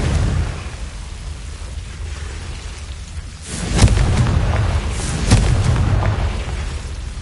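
Confringo fire-spell explosions in the Hogwarts Legacy game: two distinct booming blasts a second and a half apart over a rumbling, rain-like background, with no one speaking.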